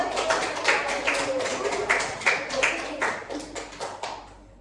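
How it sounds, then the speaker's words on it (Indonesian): Students clap their hands in a classroom during a microteaching lesson, a loose, scattered patter of individual claps with some sharp taps standing out, nearby and moderately loud, then thinning and fading toward the end. "Tepuk tangan dulu kepada"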